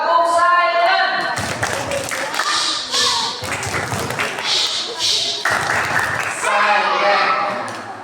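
Children run through the 'tepuk silent' clapping routine at a children's religious class, a quick patter of claps and taps mixed with young voices chanting along, busy and close throughout.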